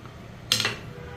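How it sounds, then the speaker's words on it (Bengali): A metal lid set onto a cooking pot in a home kitchen, a single short clink close up followed by a faint ringing over quiet background. "ঢাকনা দিয়ে দিলাম।"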